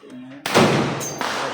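An R4 rifle fires one sharp, loud shot on a firing range, and its report rings out and decays over about a second. A brief voice is heard just before the shot.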